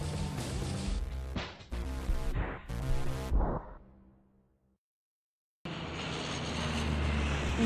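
An airplane engine drones in the adventure video game Geheimakte Tunguska, a steady loud hum that fades to silence partway through, then returns.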